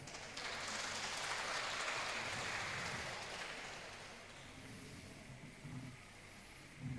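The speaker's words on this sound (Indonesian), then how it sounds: "Tepuk tangan buat Cik Sianglan." A church congregation applauds in a broad, sustained wash of clapping that swells and then slowly thins, heard at a distance and fairly faint.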